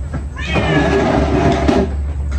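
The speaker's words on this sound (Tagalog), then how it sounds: "Mga pusang iingay" Several noisy cats meow insistently around mealtime in a home kitchen, with a drawn-out, rising cry standing out close and clear over a steady low hum.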